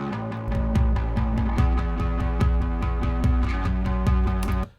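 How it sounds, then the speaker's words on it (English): A deep, steady bass guitar line plays alone, with repeated low notes pulsing in a firm rhythm alongside crisp percussive clicks, then stops abruptly. "So that's the sound of the bass."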